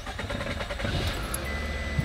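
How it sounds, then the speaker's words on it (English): A used Toyota engine turns over and settles into a steady idle, a broad continuous rumble with a faint metallic jingle near the start. "So let's start it up and listen to it."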